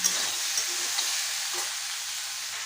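Amla (Indian gooseberry) frying for pickle in a pan gives a steady, dense sizzle that fills the whole stretch, with a few soft scrapes of stirring mixed into the crackle.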